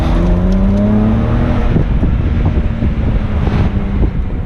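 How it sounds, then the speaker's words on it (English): A 2008 BMW 135i convertible engine rumbles steadily with a low, throaty exhaust drone while driving with the top down, wind buffeting the microphone throughout; no voices. "with the top down, you know, you get so much more activity. You get the exhaust noise"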